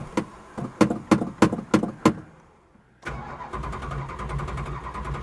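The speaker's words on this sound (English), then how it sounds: "Let's see if we're gonna get this to start." A 1969 Plymouth Barracuda with a weak battery cranks in several slow, labored bursts, pauses, then fires and settles into a steady running engine, heard close with no talk.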